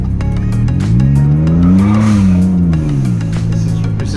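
A Ford F-150 twin turbo with an eBay exhaust and open cutoff valve revs loud and close, its deep engine note climbing to a peak and then falling back over a few seconds, with no talking.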